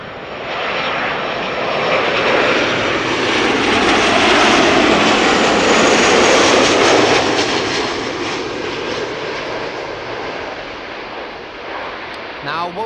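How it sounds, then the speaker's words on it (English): A Transavia airliner inbound from Naples lands at Amsterdam Schiphol, its broad jet engine roar swelling to a loud peak and then slowly fading as it passes, with voices talking faintly over it. "Next up is Transavia arriving from Naples."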